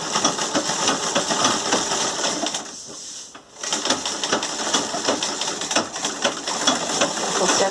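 A sewing machine stitches fabric for a door draft stopper, backstitching at the ends: a loud, close, steady mechanical whir that pauses briefly midway before running on again, with no talking.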